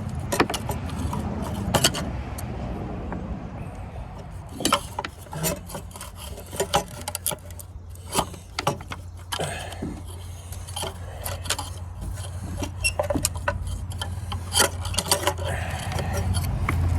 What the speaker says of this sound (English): There, got the fuel pump off.